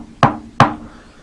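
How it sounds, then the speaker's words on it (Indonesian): Two sharp knocks on the front door of a house, about 0.4 seconds apart, close and clear with nothing else around them. "suara ketukan pintu di depan rumah terdengar dengan jelas"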